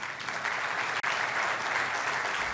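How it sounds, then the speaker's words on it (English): An audience at an organisation's annual meeting claps in a dense, even wave of applause that fills the whole stretch, with one very brief dip near the middle. "Applause to that."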